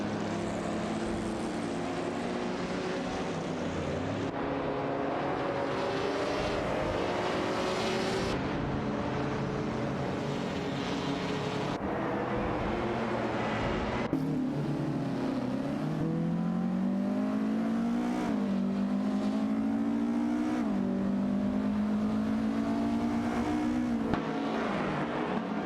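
Race cars roar steadily through an AI racing video game, engine notes climbing and dropping through gear shifts as several cars run close together, loud and continuous with no pauses.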